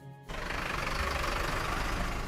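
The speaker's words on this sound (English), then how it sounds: "However, the sound of this engine" A running engine with a deep, low-pitched tone starts after a short quiet moment and continues as a steady, dense rumble at moderate loudness with no voices.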